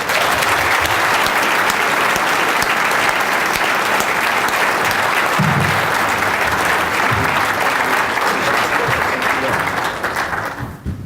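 Sustained loud applause from a conference audience at the Small Farm Conference welcoming speaker John Ikerd, a steady dense clapping that holds for about ten seconds before beginning to fade.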